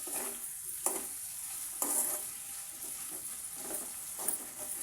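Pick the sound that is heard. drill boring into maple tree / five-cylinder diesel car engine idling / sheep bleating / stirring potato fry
stirring potato fry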